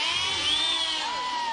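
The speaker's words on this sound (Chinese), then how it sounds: "好，掌声鼓励一下。" A studio audience at a 2008 live show cheers and whoops, with high shrill calls rising over a dense, steady crowd roar for a brief moment.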